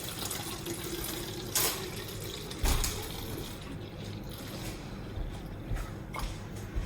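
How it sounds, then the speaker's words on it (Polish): Water poured into a drink to dilute it, a continuous close splashing and trickling pour with a few brief knocks and no talking. "teraz dolejmy do niego wody, żeby go rozcieńczyć"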